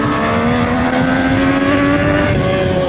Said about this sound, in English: The sweet triple howl is replaced by a screaming exhaust note